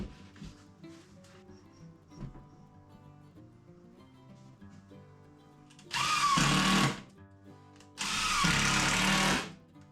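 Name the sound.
power drill driving screws into a shelf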